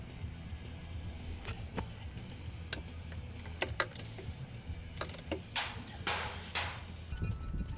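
A wrench turns a nut on the exhaust mounting bolt of a Harley-Davidson Sportster during a Lowbrow Customs Shotgun exhaust install, giving irregular close metallic ticks and clicks that grow denser toward the end over a low background hum.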